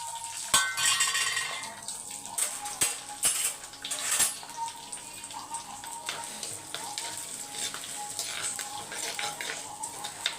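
Curry leaves, garlic, green chilies and shallots are sautéed in hot oil in a pan, giving a steady close sizzle broken by sharp metal clinks and scrapes from stirring. Nobody speaks.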